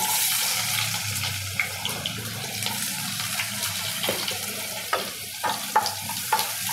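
Fennel and cumin seeds spluttering in hot ghee make a steady, close sizzle broken by small sharp pops and crackles, with no talking.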